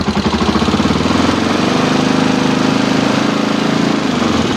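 A Honda NX 400 Falcon motorcycle engine, with a battery-draining electrical fault, revved from idle to a steady raised throttle, a loud close buzzing drone with a rapid pulsing beat that holds for several seconds and then eases slightly.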